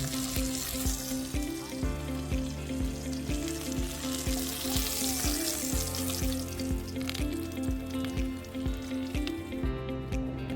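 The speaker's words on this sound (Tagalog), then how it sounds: "Piprito natin ito ng mga 5 minutes o hanggang maging golden brown bago natin i-flip" Homemade chicken nuggets fry in sunflower oil on a camping stove, giving a steady, dense sizzle that holds at the same level throughout, close and with no voices.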